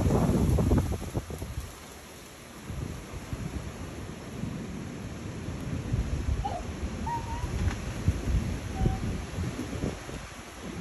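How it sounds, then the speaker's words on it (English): Low thunder rolls and rumbles through steady rain and gusting wind outdoors near a garden, a continuous deep grumble that rises and falls with no sharp crack. "And the thunder rolls, but no lightning strike."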